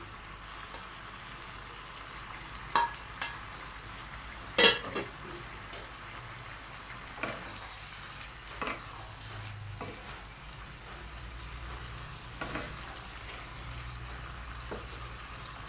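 Stingray fish pieces frying in a pan for a Bengali stingray curry, a faint, low hiss of sizzling with a few sharp spits and pops scattered throughout, quiet and close.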